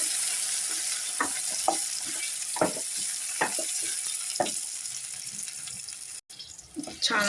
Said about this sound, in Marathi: त्याच्यामध्ये हे जे काय तमालपत्र काय असतं ते टाकणार आहोत त्याच्यात, आणि कांदा आणि टोमॅटोची प्युरी बनवलेली आहे ते ऍड करणार आहोत